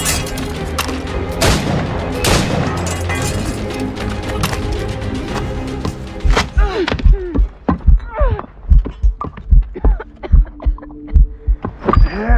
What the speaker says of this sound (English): Moving keeps my heart beating.